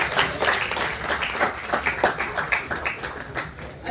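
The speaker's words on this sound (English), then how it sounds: "we need to give him a big round of applause for him" A conference audience applauds to welcome a guest speaker at a Google startup event, with steady, dense clapping throughout.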